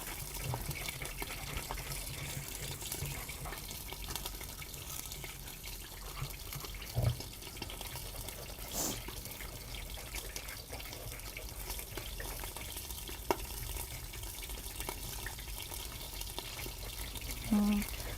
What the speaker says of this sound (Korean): 지글지글 소리 너무 좋지 않나요?